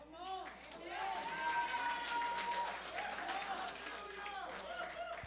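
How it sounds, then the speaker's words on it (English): Sparse applause from a church congregation during a sermon, a few claps spreading into a brief burst over a murmuring crowd and background voices. "Oh, no, don't clap now. You just clapping because I said it."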